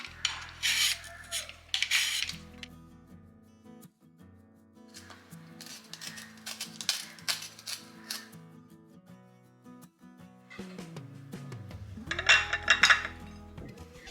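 Carrot and taro are peeled in a home kitchen, with bursts of scraping and rasping against the vegetables, light clinks of utensils and a low background hum, close and moderately quiet.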